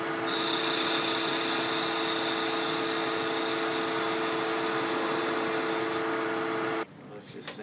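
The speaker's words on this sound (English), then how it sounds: "Take a 3/8 inch spindle gouge and just shape a round" A 3/8 inch spindle gouge shapes wood on a spinning lathe: a steady, humming motor whine overlaid with a constant rough cutting hiss, which stops abruptly just before the end.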